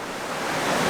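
Small waterfalls on a Scottish burn rush in a loud, continuous wash of broadband noise, close by and slightly rising, with no voices.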